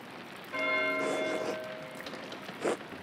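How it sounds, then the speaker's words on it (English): A church bell rings out in the medieval abbey setting of the video game Pentiment, a sustained metallic toll with ringing overtones that holds for about a second before fading, followed by a brief softer knock. "Why is Matthew ringing the bell?"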